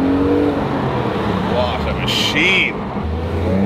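Drift car engine revving hard toward 9,000 rpm, a steady loud roar that swells and holds under continuous in-car talk, with brief high whining bursts.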